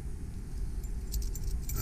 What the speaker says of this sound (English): We have two sets of keys for door and ignition.